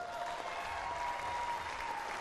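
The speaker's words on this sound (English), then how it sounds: "I think big crowd of applause for all the ball kids" Steady applause from a tennis crowd at a Billie Jean King Cup tie between India and Korea Republic, honouring the ball kids; broad sustained clapping fills the short stretch at an even level, with no talk over it.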